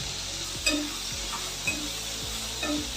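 Brinjal sautéing in a pan for a spicy Tamil kara kuzhambu, a steady close sizzle with a few light clinks of a spoon stirring against the pan.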